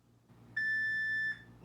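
A workout interval timer gives a single electronic beep during a weights and Pilates leg session. The steady, pure tone lasts under a second, is fairly loud and stands alone over quiet room background.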